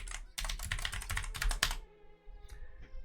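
Rapid, close computer keyboard typing while playing Lord of the Rings Online, a dense clatter of keystrokes that stops abruptly, leaving a few faint game tones.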